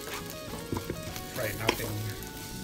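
Salted cod (bacalao) and onions frying in a pan, a close steady sizzle broken by stirring knocks and scrapes, with faint background tones.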